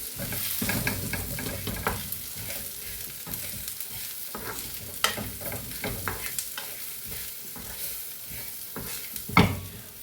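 Grated coconut and other ingredients for a Kerala-style chickpea masala curry fry in a pan, a steady close sizzle broken by irregular scrapes and clacks of stirring, with a sharper knock near the end.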